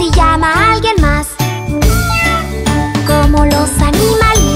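Within a bright Spanish-language children's song, a voice imitates a kitten's meowing in repeated sung meows over loud, bouncy music with jingling chimes.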